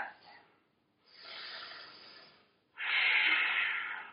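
A deep breath exhaled during a yoga practice, heard as three soft airy rushes: a short one, then a longer gentle exhale, then a fuller, louder breath that fades slowly, with no talking.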